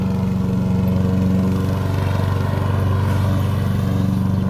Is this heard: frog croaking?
no